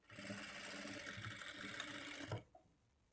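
A sewing machine runs steadily for about two seconds as it stitches the side seam of a blouse, its motor whirring loud and close, then stops abruptly, followed by a couple of small mechanical clicks.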